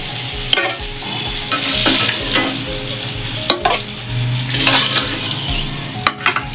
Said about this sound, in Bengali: ডিমটাকে ভেজে তুলে নেব